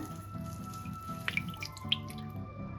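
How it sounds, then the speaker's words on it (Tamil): A thin stream of cooking oil trickles and drips into a pan with a few splashy plinks against a steady background hum. "இது பொரிக்கிறதுக்கு தேவையான எண்ணெய் விடுறேன். குக்கிங் ஆயில் விடுறேன்."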